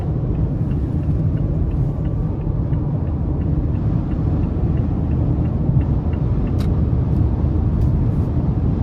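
A 2017 Mazda CX-5 Touring with the 2.5 engine accelerates up an interstate on-ramp, its steady low engine drone and road rumble heard from inside the cabin with no talking.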